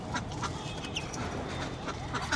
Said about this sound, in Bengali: আমাদের নিচে একটা হাঁস আছে